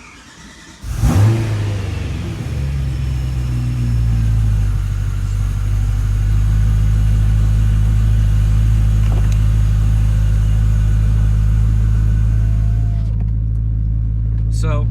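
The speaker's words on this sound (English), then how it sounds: "I'm gonna go ahead and I'm gonna fully turn the car on this time." A BMW E92 M3 engine fires up with a sharp burst, then settles into a deep, steady idle rumble that grows slightly louder and holds.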